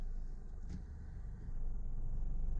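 A 2005 Toyota Corolla CE engine runs steadily while the transmission is shifted through its gears, giving a low, continuous rumble from inside the car that swells slightly near the end.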